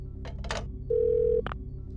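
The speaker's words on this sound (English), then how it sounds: "There's a phone here." A telephone rings in the survival horror game Parasite Eve II: one steady electronic ring tone lasting about half a second, with short clicks and knocks before and after it.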